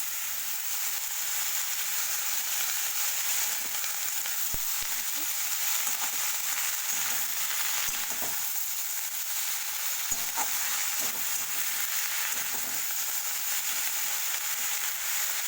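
Pumpkin and greens with fish fry in a pan as a steady, even sizzle and hiss with faint stirring scrapes, continuing without pause.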